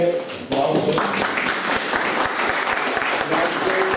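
Audience applause at a cultural event in Oslo honouring Pirandello, dense steady clapping from a seated crowd that follows a short speech fragment and holds at an even level.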